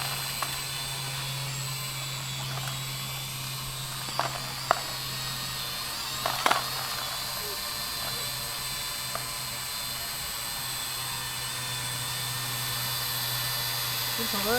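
An E88 drone whirs overhead as a steady, faint, high-pitched buzzing hum with a low drone beneath it, heard outdoors in windy conditions, with a few brief clicks and knocks nearby.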